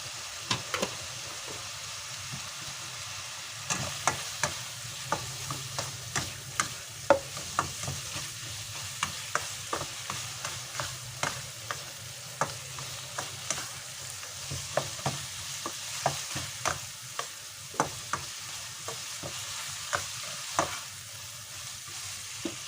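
Garlic sizzles steadily in a hot pan while a utensil scrapes and taps through it in a regular stirring rhythm, close up and without talk.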